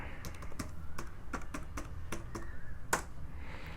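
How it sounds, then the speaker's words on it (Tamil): A password is typed on a computer keyboard as a run of light, close key taps at an uneven pace, with a sharper keystroke near the end and no talking. "திரும்ப கரெக்டாக டைப் பண்ணுறேன்."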